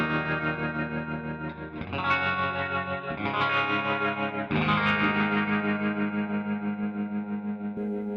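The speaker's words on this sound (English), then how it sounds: "And here is the tremolo." Electric guitar run through a tremolo effect on a Boss Plethora X3 multi-effects pedal, sustained chords pulsing in steady volume waves, loud and alone with no voices.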